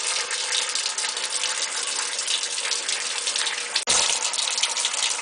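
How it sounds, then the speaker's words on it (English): Water runs weakly from a washing machine's cold fill tap that is barely delivering flow, a steady close hiss with one brief break near the end. "the water's barely coming out"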